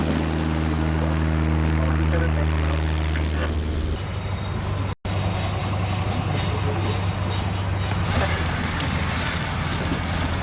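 A light aircraft with a propeller engine is heard taxiing on a runway in Nepal near Pokhara, its loud droning engine close and continuous, with a pitch change midway and a brief dropout.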